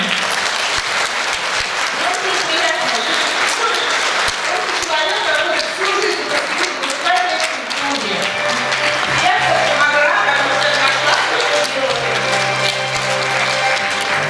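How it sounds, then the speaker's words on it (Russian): Sustained audience applause fills an awards ceremony for a Khakas song project, dense clapping steady and loud throughout, with music playing underneath and a slight swell toward the end. "ваши теплые искренние аплодисменты"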